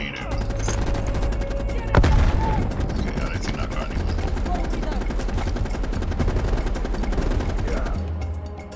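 Machine gun fire rattles in Call of Duty: Black Ops Cold War, with bursts of rapid shots and a louder blast near the start, over a low battlefield drone while a player talks.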